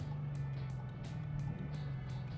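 A Dodge Scat Pack with a dual-clutch gearbox in sport mode holds a steady engine drone close by, with faint pulsing swells on top and no voices.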